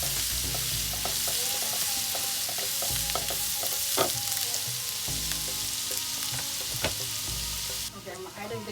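Minced ginger and garlic sizzle in hot oil in a pan, with a spoon stirring and clicking against the metal in quick bursts, close up and fairly quiet.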